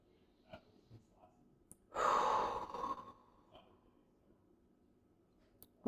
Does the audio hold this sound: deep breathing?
yes